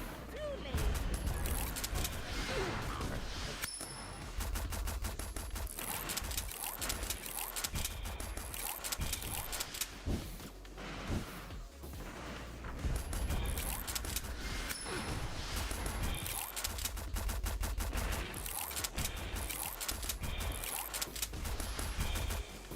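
Rapid, steady gunfire from the video game Steel Carnelian as shots strike enemy shields, a continuous clattering stream with short breaks, faint throughout under a game soundtrack.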